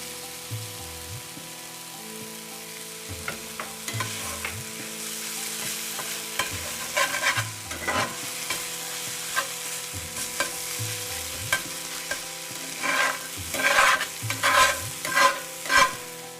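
Onion and garlic fry in a pan with a steady sizzle while a utensil repeatedly stirs and scrapes through them, giving rhythmic clattering bursts that grow busier toward the end.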